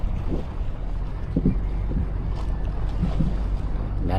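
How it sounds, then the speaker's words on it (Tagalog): Many fishing boats out on the water at a tuna fishing spot, heard as a steady wash of wind and water with a low motor rumble throughout and no talking. "Daming bangka ngayon."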